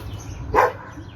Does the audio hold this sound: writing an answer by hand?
no